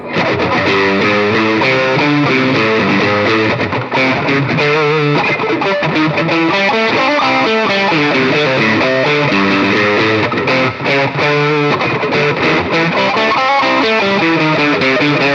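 Kazuki Rough Stone electric guitar played through heavy distortion, dense crunchy chords and riffs ringing continuously and loudly for about fifteen seconds with no speech.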